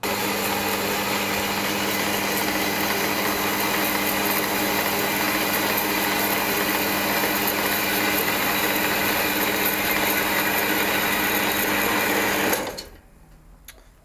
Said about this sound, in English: we'll head on out to the bandsaw with a bit of stock. We'll start cutting that back